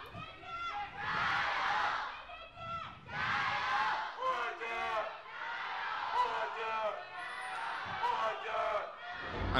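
Fans of Edward Gaming cheer and chant in a large arena crowd at a League of Legends LPL esports match, the loud roar rising and falling in waves while a caster talks over it.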